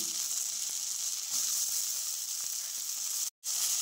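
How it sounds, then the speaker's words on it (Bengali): Cubed potatoes and soaked raw chickpeas frying in oil, a steady bright hiss of sizzling with a couple of faint ticks, no voices. "আলুগুলোকে হালকা ভেজে তার সাথে ভেজানো কাঁচা ছোলা দিয়ে দিলাম"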